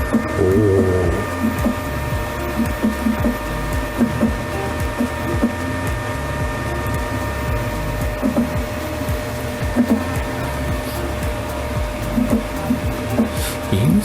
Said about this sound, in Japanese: 印刷中の音は思ってたほどはうるさくないですね